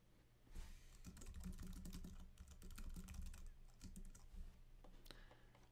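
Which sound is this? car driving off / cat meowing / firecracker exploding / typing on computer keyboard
typing on computer keyboard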